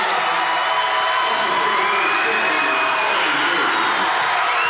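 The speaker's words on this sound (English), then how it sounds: "You got the whole Whole bleacher cheering." A packed bleacher crowd cheers and shouts loudly and continuously after a Section 4A girls basketball final between Lester Prairie and Maranatha Christian Academy, a dense roar of voices with whoops rising above it.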